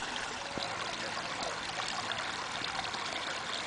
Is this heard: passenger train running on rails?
no